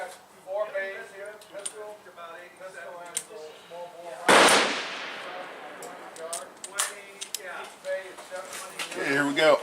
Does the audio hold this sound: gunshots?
yes